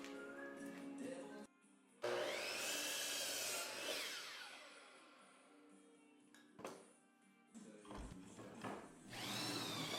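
A power saw whines loudly, trimming a wooden board for a farmhouse coffee table in a few separate cuts, its pitch rising and falling between short pauses.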